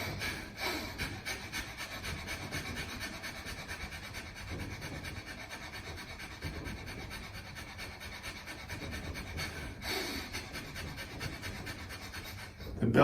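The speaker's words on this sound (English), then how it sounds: "This is fire breathing." Kundalini breath of fire, done with the arms raised at 60 degrees and the thumbs up, comes through as a steady run of rapid, rhythmic breaths pumped through the nose, close and moderately loud, with no speech.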